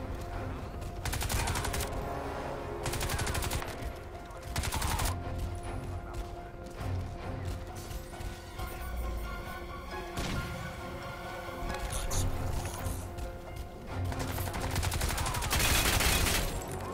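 Rapid SMG gunfire in the video game Crysis 2 Remastered, loud, close bursts of automatic fire broken by short pauses, with cracking impacts and steady game background sound underneath.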